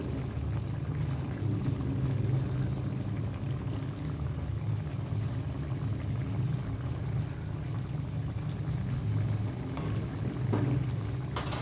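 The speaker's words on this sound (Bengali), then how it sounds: "আমি এর মধ্যে এই যে একটু ফ্রেশ ক্রিম মিশিয়ে দিচ্ছি" Fresh cream stirred into simmering malai paneer, with a steady low bubbling and soft stirring that runs throughout, close and even, with no voices.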